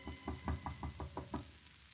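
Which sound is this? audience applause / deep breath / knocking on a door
knocking on a door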